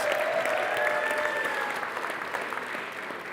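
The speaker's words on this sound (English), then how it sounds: "Please give them a big round of applause." A steady round of applause from a crowd at a live mountaineering talk, a dense continuous wash of clapping that tapers off slightly toward the end.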